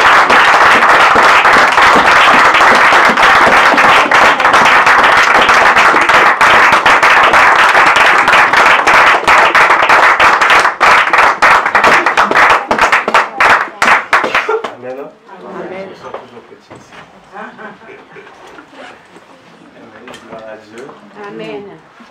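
A church congregation claps and applauds loudly and steadily for about fourteen seconds, then the applause thins into scattered claps as a voice speaks.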